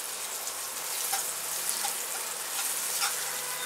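Ginger garlic paste frying with boiled chicken and onion for Nagpur-style Saoji chicken sukka, a steady, soft hiss of sizzling oil with faint stirring clicks, no voices.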